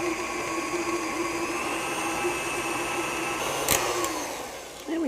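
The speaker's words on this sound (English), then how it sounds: "it's a lot of work, which is why I pull out the mixer, or you can use electric beaters" An electric mixer creams butter and sugar for confetti cookies, giving a loud, steady motorized whir close by with a brief clatter near the end before it winds down.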